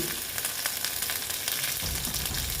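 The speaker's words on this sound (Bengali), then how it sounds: "তেলটা গরম হয়ে গেছে এইবার আমি অল্প কালো জিরে দিয়ে দিলাম তারপরে দিয়ে দিচ্ছি রসুন" Black cumin seeds and crushed garlic hit hot oil for a Bengali kochur loti dish, giving a steady, dense close sizzle that swells louder toward the end as more goes into the pan, with no talking.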